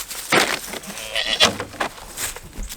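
A goat bleats in several short, nasal bursts at close range, with brief pauses between calls and faint rustling in the background.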